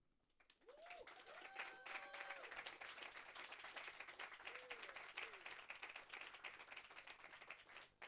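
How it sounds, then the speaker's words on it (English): Audience applause after a spoken-word performance at a storytelling event in Amsterdam, a steady wash of clapping from a sizable crowd that holds throughout, with a few brief whoops rising above it. "we can do better than that. A massive, massive applause"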